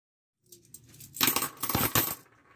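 Coins drop and clatter onto a surface, a quick burst of jingling metallic impacts that settles into a couple of louder rattling clusters, close and alone with no talk.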